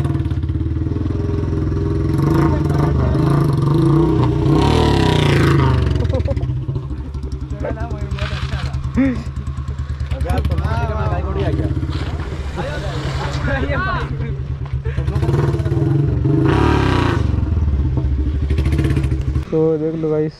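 Royal Enfield Bullet motorcycle engines revving hard during wheelies alongside other bikes, a loud continuous roar with rising and falling throttle bursts, with people talking over it.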